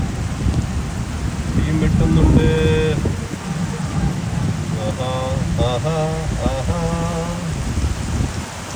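Heavy rain pours down in Vizhinjam, a dense continuous hiss and wash of water filling the whole scene, with voices talking over it.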